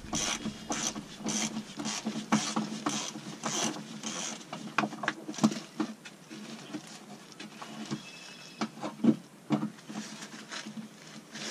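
A ratchet clicks in uneven bursts of rapid ticks while loosening alternator bolts on a Jeep, close up, with metallic rattles and pauses between strokes.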